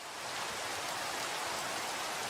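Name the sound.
rain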